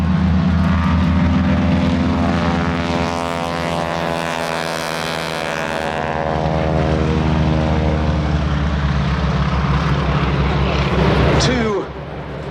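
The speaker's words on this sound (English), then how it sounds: "rolling now for takeoff" Two Boeing Stearman Model 75 Cadet biplanes with wingwalkers at an air show roll for takeoff, their radial propeller engines droning loud and steady, swelling and shifting in pitch as they pass, with a crowd-like background wash.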